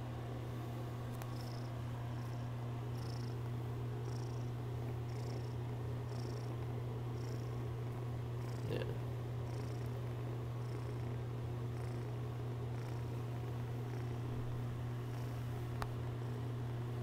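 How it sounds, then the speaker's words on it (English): A cat purrs right up close, a steady low rumbling drone holding evenly throughout with faint rhythmic breathy pulses on top, heard alone without any talk. "get up close so you can hear the purr"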